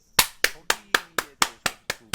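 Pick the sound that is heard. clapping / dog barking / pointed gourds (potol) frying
clapping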